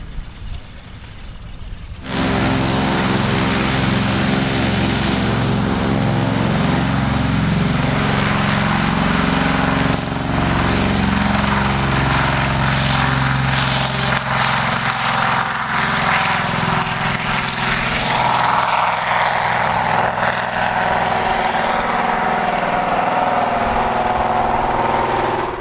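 A propeller aircraft at an airshow starts its takeoff run to the south, engines surging abruptly to a loud, sustained droning roar that holds steady with a throbbing tone.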